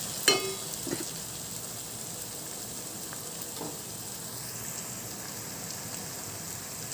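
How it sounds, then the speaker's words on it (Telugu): Ginger garlic paste frying in a pan for a chicken curry, giving a soft, steady sizzle like light rain, with a few small clicks and taps near the start. "ఇప్పుడు అల్లం వెల్లుల్లి పేస్ట్ వేగాలి ఫ్రెండ్స్"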